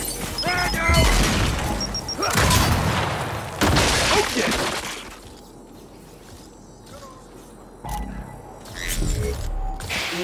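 A grenade blows up in Gears 5 with loud, close booms and crashing debris amid bursts of combat noise. Explosions repeat in several heavy surges before things quiet down, with voices talking in between.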